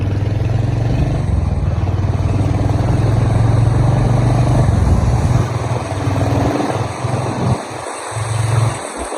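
A Royal Enfield Hunter 350 motorcycle pulls away and accelerates. The engine note is loud and close, with a steady low drone that climbs, then breaks up into gear-change dips near the end. No one speaks.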